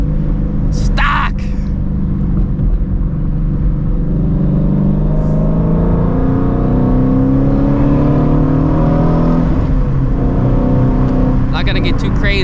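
Ford Shelby GT350 with catless long tube headers and an X pipe on E85, revving and accelerating while driven, a loud, close, continuous deep rumble, with a brief voice over it.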